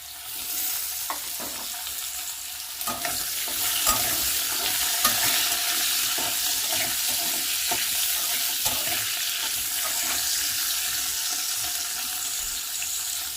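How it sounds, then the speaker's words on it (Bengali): Potato strips and drumstick pieces frying in oil for a rui fish curry sizzle steadily up close, with a hissing, bubbling wash and intermittent stirring knocks. No one speaks. "দু মিনিটের মতো আমি এটা ভেজে নেব"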